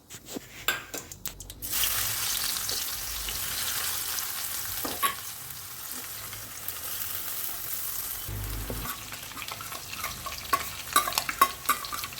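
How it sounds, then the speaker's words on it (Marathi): Tempering spices dropped into hot oil for egg rice: a sharp burst of crackling and spattering, then a steady sizzle with scraping stirs and a few clinks from the pan. "आता आपण फोडणीसाठी साहित्य टाकूया।"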